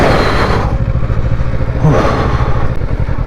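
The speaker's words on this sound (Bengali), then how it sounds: "বাইকের থ্রটাল নিতে পারছে না" A Kawasaki motorcycle labours up a dark mountain road in North Sikkim with a loud, close, continuous low rumble. The engine surges twice and there is some rattling clatter from the rough ground.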